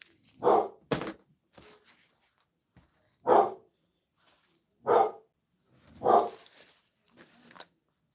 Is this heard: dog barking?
yes